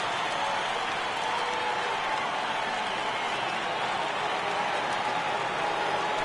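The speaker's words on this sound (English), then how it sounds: "Crowd gets up for the 3-2." A stadium crowd in a baseball video game, Rangers at Astros, roars steadily as the count reaches 3-2. The broad, even wash of cheering holds at a constant level the whole time.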